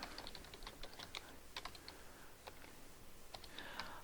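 Fast, uneven tapping of keys on a computer keyboard, a steady run of light clicks close by over a faint background hiss, with no voices.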